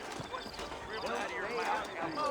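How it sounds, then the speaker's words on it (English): Horse hooves clip-clop in the Western video game Red Dead Redemption, a soft, steady rhythm of walking horses heard faintly beneath continuous character dialogue. "I got the horses saddled up and ready out front."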